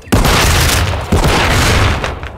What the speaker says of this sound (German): Blendgranate geworfen.